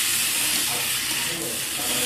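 Spices and fried fish eggs being stir-fried in a hot pan for a fish egg curry, a dense continuous sizzle and hiss with faint scraping of stirring underneath, close and steady throughout.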